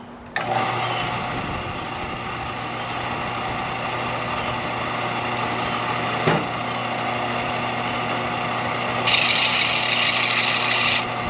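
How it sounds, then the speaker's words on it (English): A power sander grinding down a wheel to reshape it runs continuously with a steady whine and raspy grinding, loud and close, a brighter hiss joining near the end. "Let's get this sander moving and see."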